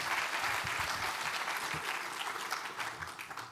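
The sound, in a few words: audience applause at a Rust conference talk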